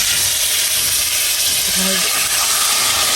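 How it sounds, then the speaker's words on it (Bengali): Hot oil tempering of tomatoes with black cumin, dried chili and garlic gives a loud, continuous hiss and sizzle that fills the whole stretch, with a brief tonal clink partway through. "বাগার দিয়ে দিলাম টমেটোটা। কালো জিরা ফোড়ন দিয়েছি, শুকনো মরিচ রসুন ফোড়ন দিয়েছি।"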